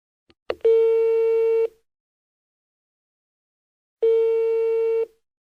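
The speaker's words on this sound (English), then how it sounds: "Your number's ringing now." Two long, steady electronic tones, each about a second, separated by a pause: a telephone ringing signal, clear and close.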